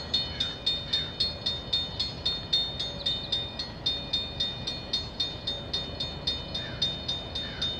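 A CP freight train approaching at Bronte Street in Milton, with steady rail noise and a regular clickety-clack rhythm of wheels over joints, plus a faint high tonal squeal, continuous and moderately near with no talk.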